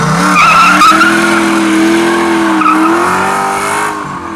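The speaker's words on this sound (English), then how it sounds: "Your Mustang did a pretty good burn." 1966 Ford Mustang doing a burnout, a loud close sustained tire squeal over a steady roaring engine, holding for several seconds before easing slightly at the end.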